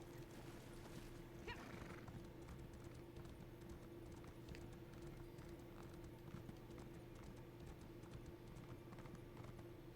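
Horse hooves clip-clop in a video game, a faint, steady run of hoofbeats with a brief soft whinny-like sound early on, heard alone at low volume.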